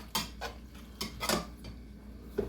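Pasta sauce with basil and spices stirred in a pot, giving a series of faint, quick clinks and scrapes of a utensil against the metal in an uneven rhythm.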